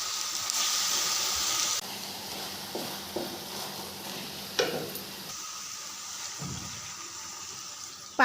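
Water poured into a hot pan of charcoal mushroom curry, a loud hissing rush at first that settles into a quieter bubbling simmer with a few light knocks, heard close without speech.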